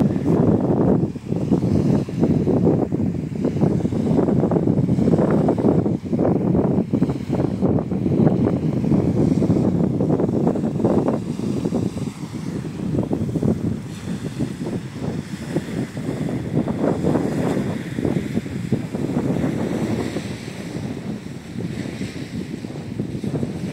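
Sea waves wash continuously onto the shore, a steady broad roar with heavy wind buffeting the microphone throughout, loud and close.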